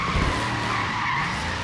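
Dodge Charger Hellcat tires skidding steadily while drifting uphill in Forza Horizon 3, a continuous loud screech with engine rumble underneath, running the full length with no talk.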